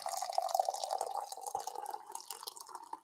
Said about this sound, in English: I'm going to go ahead and pour me a cup.